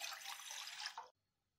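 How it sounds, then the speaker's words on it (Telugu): Water poured into a pan on the stove while making a fruit jelly cake, a steady, close splashing stream for about a second that cuts off abruptly into near silence. "2½ కప్ వాటర్ వేసుకుందాము."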